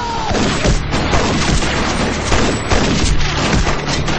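Gunfire erupts in a crime drama scene from the TV series CSI: a loud, dense barrage of shots and crashing impacts with a few sharper bangs punching through the din.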